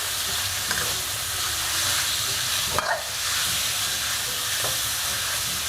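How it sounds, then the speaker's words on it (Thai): Pork stir-fried in oil previously used to fry garlic sizzles loudly and steadily in a hot pan, with a few brief scrapes and clacks of the spatula as the meat is tossed. "หมูนะครับ ใส่ไปเลย ผัดกับน้ำมันที่เราเจียวกระเทียมเมื่อกี้นะครับ"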